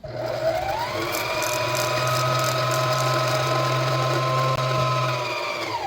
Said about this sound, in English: So the machine has a tendency to stop when your bobbin is full.